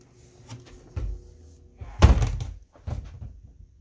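Small French doors between a kitchen and dining room swing shut in a new home, giving a few soft knocks, then a louder thunk and rattle near the middle, followed by lighter bumps.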